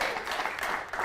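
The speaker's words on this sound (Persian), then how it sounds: "خب پس بچه‌ها مهمون رو حداقل تشویق کنه" An audience at a talk show claps for a female guest, a short burst of dense applause at steady loudness, close and continuous with no voices standing out.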